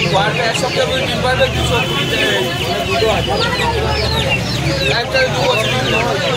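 Crowded outdoor poultry market with chickens clucking and squawking throughout, mixed with loud overlapping voices and traffic noise.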